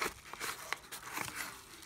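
A small plastic parcel bag from AliExpress holding two 10-watt speakers crinkles and rustles in close, quiet handling, with a few sharper crackles scattered through.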